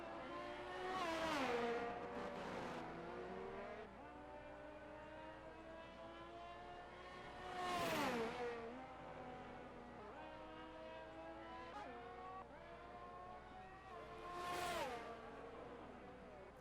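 Race cars in the F1 22 video game on the China circuit roar past in three loud passes with rising and falling engine pitch, one car heading into the pit lane, while a steady engine drone continues between passes.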